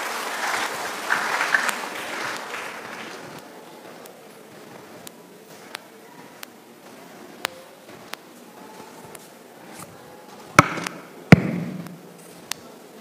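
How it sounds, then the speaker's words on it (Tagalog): Applause from an audience at an evening religious talk, a soft diffuse patter of clapping that fades over several seconds, followed by quieter room sounds and a few sharp knocks and thumps. "Brother Eugene Ifundo, atong sugaton sa masipang palakpak."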